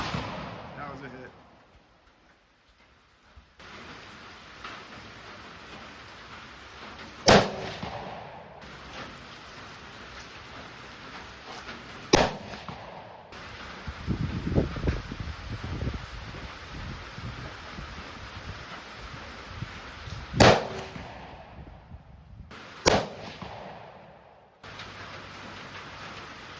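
A Thompson Center Contender pistol firing 5.56 rounds at a steel target outdoors, with several sharp, loud single shots spaced seconds apart over a steady rain-like background hiss, and a voice speaking between shots.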